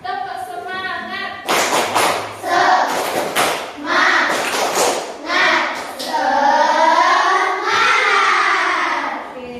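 Several quick rounds of schoolchildren clapping in a set 'tepuk semangat' rhythm, broken up by the children chanting together and a teacher speaking.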